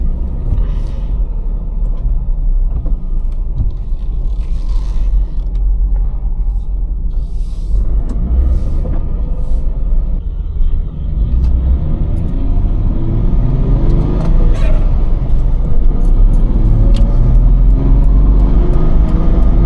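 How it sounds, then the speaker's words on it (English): A 2001 Nissan Pathfinder SE with manual transmission rumbles low and steady, revving up and pulling away in first gear with a deep drone that builds toward the end, close and loud. "put it into first gear"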